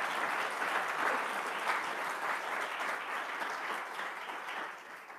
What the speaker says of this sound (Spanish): Denle un aplauso a Jesús, por favor